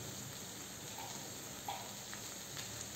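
Vegetable wedges cook in a pan with turmeric added, giving a faint, steady frying hiss over three seconds with a couple of soft clinks and no talking.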